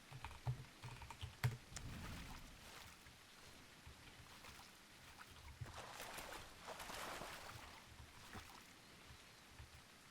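Keyboard typing from a player at a computer during a session of the game The Isle, a steady patter of light key clicks under faint background ambience with occasional louder taps.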